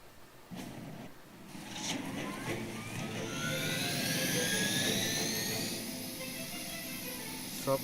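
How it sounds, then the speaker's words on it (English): A Hydra helicopter in Marvel's Midnight Suns sweeps in with a rising turbine whine and rotor roar, building to a loud sustained pass before easing slightly, with a brief clank at the end. "Stop Hydra helicopter."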